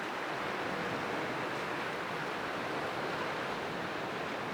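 Ocean waves roll into a narrow lagoon entrance on Australia's east coast, a steady broadband wash of surf with wind noise and no distinct breaks, even and continuous throughout.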